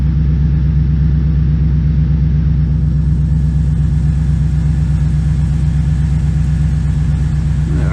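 A 1996 LT1 V8 with TorqHead heads idles steadily nearby, a deep, even rumble with a slightly loping pulse that holds constant throughout without revving.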